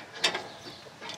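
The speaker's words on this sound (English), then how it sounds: "you'll use that wrench and tighten this top nut back down" A wrench tightens the top nut on the deck-leveling adjuster of a Cub Cadet Enduro Series riding lawn mower, giving a brief metallic ratcheting click and a couple of faint follow-up clicks, close and quiet.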